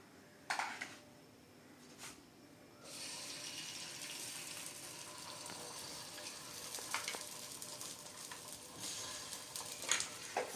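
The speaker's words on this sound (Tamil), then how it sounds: "இப்போ நம்ம வந்து இந்த மிக்சர் வந்து பேனில் ஊற்றிக்க போகிறோம்" Cheese omelette egg mixture poured into a hot uttapam pan sets off a steady sizzle after a few clinks, with occasional sharper taps and scrapes near the end.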